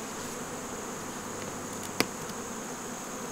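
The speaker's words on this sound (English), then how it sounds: "look at all these bees. They're just busy, busy." Honey bees buzzing at a beehive on a sunny day after rain, a steady close droning hum with one brief sharp click partway through.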